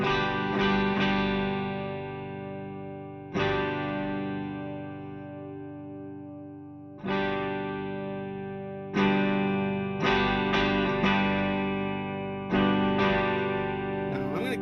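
Distorted electric guitar chords through an amp simulator with a rear-miked cabinet, strummed and left ringing, each struck chord decaying before the next, with a dense, saturated amplified tone and no talking.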